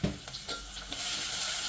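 Ginger garlic paste frying in a pan for tomato rasam gives a steady close sizzle, with a few soft stirring scrapes at the start.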